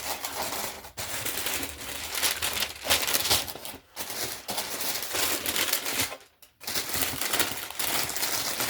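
Paper wrapping crinkles and rustles while Air Jordan 12 "Flu Game" sneakers are unboxed, a close, busy stream of crackling broken by a few brief pauses.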